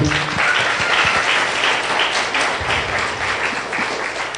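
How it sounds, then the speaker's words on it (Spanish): A church congregation gives a dense, continuous round of applause during a Sunday sermon, many hands clapping together at close-to-moderate distance, with a few near taps early and little talk. "Denle un aplauso al Señor."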